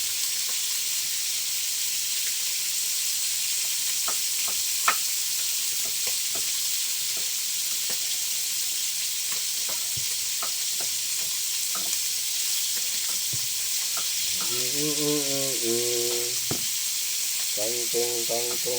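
Kangkong (water spinach) frying in a pan, a constant loud sizzle with occasional pops and stirring clatter, and a brief voice near the end.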